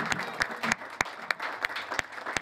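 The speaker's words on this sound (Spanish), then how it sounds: "la vamos a recibir con un fuerte aplauso" Applause at a rural women's tribute ceremony, welcoming the association's president: a fairly small audience clapping, with a few sharp, prominent near claps standing out over softer scattered clapping.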